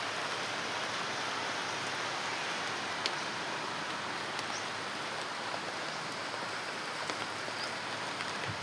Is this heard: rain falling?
yes